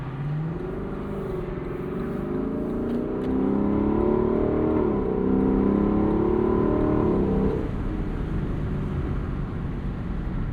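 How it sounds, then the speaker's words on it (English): A 2025 Lexus LC 500 convertible with a 5-liter V8 rumbles as it accelerates. The engine note rises steadily in pitch, then drops away as the car eases off, heard from inside the car with no talking. "the bellow of that 5-liter V8 is just bewitching"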